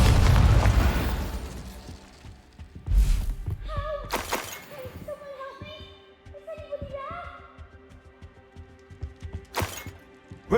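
Incendio fire spells in Hogwarts Legacy burst out as sharp, booming blasts near the start and again late, separated by ringing magical tones and quieter game ambience.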